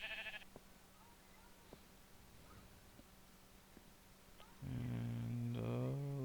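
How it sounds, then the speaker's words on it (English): Sheep in the Minecraft video game bleat in a short burst of game sound at the end, loud and close, after a quieter stretch of faint background noise. "And I have a sheep in my design here."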